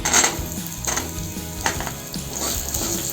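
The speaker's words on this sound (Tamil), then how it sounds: "வெங்காயத்தை நல்லா வதக்கி விட்டுக்குங்க." Chopped onions with dried red chillies sauté in a hot pan for peanut chutney, a close, continuous sizzle with spatula scrapes and stirring clinks throughout, no voices.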